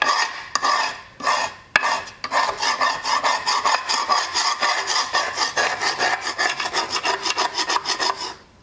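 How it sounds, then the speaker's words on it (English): A gasket scraper is worked over an engine gasket surface in close, rapid, rhythmic strokes, a continuous gritty rasp after a few hesitant starts. "And get a scraper. We get a gasket scraper."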